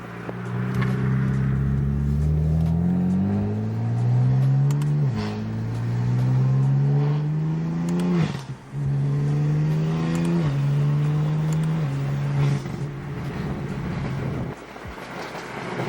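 A BMW F80 M3 engine revs loudly and close by, the pitch rising and falling through repeated sweeps over about sixteen seconds with a brief dip in the middle.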